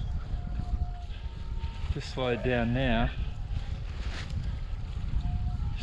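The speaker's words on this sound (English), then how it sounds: "Probably sounds windy because I'm actually going quite fast" Constant low wind buffeting roars over the microphone while wing surfing fast, with a brief spoken remark in the middle.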